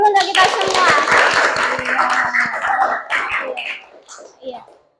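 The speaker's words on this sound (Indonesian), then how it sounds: "Ya, tepuk tangan dulu untuk kita semua." A class of children claps hands together in a quick, irregular patter of sharp taps lasting a few seconds, with young voices talking over it before the clapping fades out.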